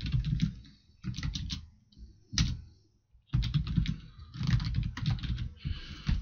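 Keys clatter on a computer keyboard in close, steady runs of typing, broken by short pauses, with no voice over it.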